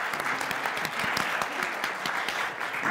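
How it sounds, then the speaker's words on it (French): Audience applause at a university comic-book conference, even, moderately loud clapping from a crowd sustained throughout without voices. "on va encore applaudir Marion qui a fait toute la coordination"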